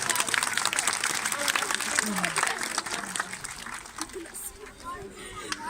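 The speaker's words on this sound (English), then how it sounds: "Give Gina a big round of applause" An audience applauds at a sea lion show at Blackpool Zoo, the outdoor clapping and crowd noise running under a presenter's amplified voice and gradually thinning out.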